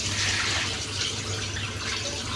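A kitchen tap in Dubai runs steadily as frozen pork is washed under it, giving a close, continuous splashing rush of water with no talking.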